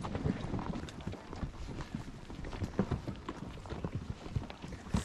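Horse hooves clip-clop steadily along a wilderness trail on a long ride through burned country, a continuous near rhythm of overlapping steps with rustling around them.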